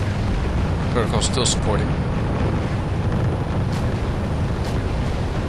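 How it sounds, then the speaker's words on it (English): Artillery shells keep landing during a battle for a town in the real-time strategy game Wargame: European Escalation, a dense, rumbling barrage of low booms under continuous battle noise, with a short voice line from the game spoken over it. "Artillery is still falling."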